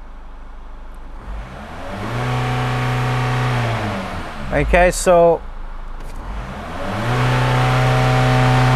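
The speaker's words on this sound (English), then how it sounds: "So I'm gonna rev the car now." A Chevrolet Captiva with a blocked DPF idles, then revs up and falls back twice with a brief spoken word in between, ending on a rising rev.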